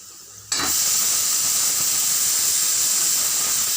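South Indian papadam drops into hot oil and sets off a sudden, loud, hissing sizzle that starts after a quiet moment and then holds steady and close.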